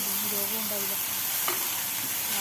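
Vegetables, cluster beans for a thoran, being stirred and mixed in a hot pan, with a continuous sizzle and soft scraping of the spoon, one sharper clink midway, no talking.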